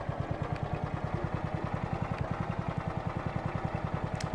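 A tractor engine in the Forestry 2017 video game idles with an even, rapid, throbbing putter that stays steady and close throughout.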